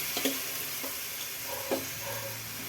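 Cabbage goes into a pan of frying onions and tomatoes for kosu kootu and is stirred, bringing a faint steady sizzle with a few soft scraping stirs of the spoon.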